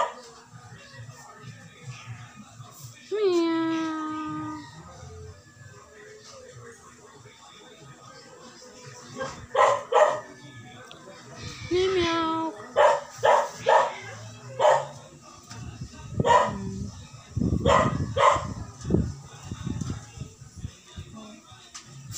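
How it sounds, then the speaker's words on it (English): Dogs at an animal rescue shelter: a high whine early on, then scattered loud barks and yips in short bursts from several dogs, with people talking nearby. "So there's also dogs here."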